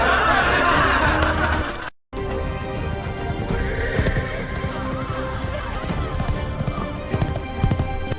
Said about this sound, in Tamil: குதிரை திருநாள் கூட்டத்துக்கிடையே புகுந்து ஓடிற்று.